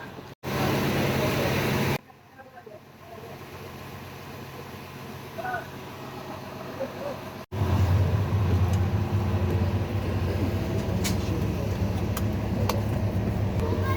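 A steady low rumble and hum fill the interior of a moving bus, with engine drone and air-conditioning noise throughout, shifting in level midway, and faint voices in the background.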